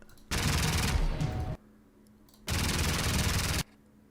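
Rapid automatic gunfire in the video game Generation Zero comes in two long, loud, sustained bursts, each over a second, separated by a short quiet gap.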